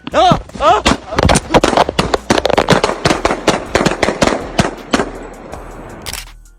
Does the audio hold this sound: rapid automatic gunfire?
yes